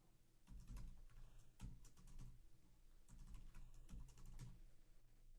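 Keys clatter on a computer keyboard as an email address and password are entered, quick irregular bursts of taps with brief pauses between, close and fairly quiet with no voices.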